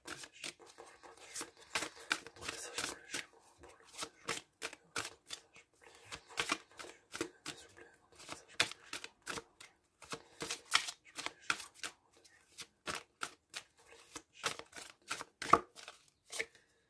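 Tarot cards being shuffled by hand, a long run of quick, crisp riffling clicks and flutters in uneven bursts, close but faint, with no voice.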